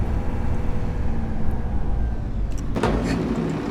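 A car in the video game Farming Simulator 25 runs with a steady, close engine rumble while it rolls up and slows. It continues unbroken for about four seconds, with no talking.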